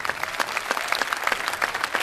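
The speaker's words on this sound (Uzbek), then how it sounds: "Bitta qarsak chalib beringlar." An indoor comedy-show audience breaks into a short burst of clapping, with many scattered hand claps at moderate loudness and no speech.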